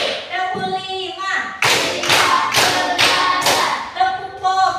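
Pupils in a classroom clap in unison during a counting clap game, giving about four strong, evenly spaced claps framed by a teacher chanting the count.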